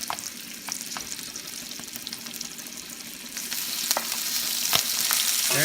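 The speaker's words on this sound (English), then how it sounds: "Now we're going to add our shrimp." Shrimp sizzling and frying in a pan with garlic and pork belly for pancit bihon guisado, a steady close hiss with occasional stirring clatter, growing slightly louder near the end.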